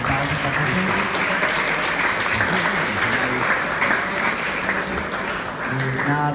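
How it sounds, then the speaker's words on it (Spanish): An audience at a panel discussion applauds the guests, dense sustained clapping throughout at close range, with a voice speaking over it. "Quiero entonces, por favor, un gran aplauso para todos los invitados acá presentes."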